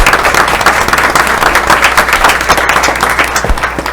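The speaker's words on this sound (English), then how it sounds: "give him a round of applause" Loud, dense applause from an audience at a school board meeting, continuous rapid clapping that holds steady before easing off slightly at the end.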